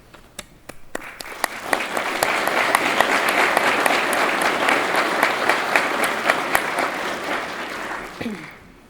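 Audience applause at a St. Louis County and Municipal Police Academy graduation ceremony for Class 208, a steady crowd clapping that swells quickly and holds evenly for several seconds before fading out, with no talking over it.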